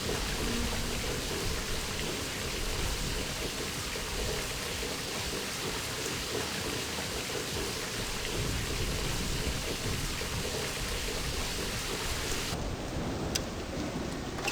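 A steady, loud thunderstorm with heavy rain in the My Summer Car video game: continuous dense rain hiss with low thunder rumbling throughout, and no voices.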